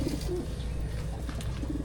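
A lame racing pigeon coos softly in low, throaty murmurs, repeated a few times over faint background noise.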